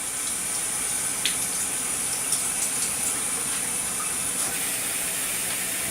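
Cold water poured steadily into a cooking mixture makes a continuous close gushing, hissing flow with a few small splashes.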